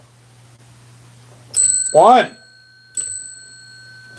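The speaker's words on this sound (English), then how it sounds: "Do you guys really want me to do the nose thing where I hit that bell with my nose?" A bell is struck with a nose: two bright metallic rings, the first followed by a short wavering voice, the second a little over a second later, each decaying slowly over a low steady hum.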